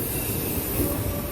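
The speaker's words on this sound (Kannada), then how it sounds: "ಅರಸೀಕೆರೆಯಿಂದ ಟ್ರೈನ್" A train from Arsikere rolls past a station, a loud, steady rumble with wheel squeal and grinding metal filling the whole moment.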